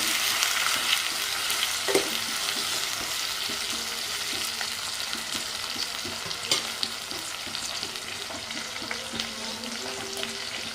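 Curry leaves crackle and sizzle in hot oil for a village-style pesara pappu charu, a dense continuous frying hiss with scattered pops and occasional stirring scrapes, close and fairly loud, no talking.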